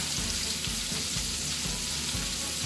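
Garlic butter sizzles steadily in a frying pan, a dense crackling fry that holds throughout with a few soft bumps underneath, close and alone with no talk.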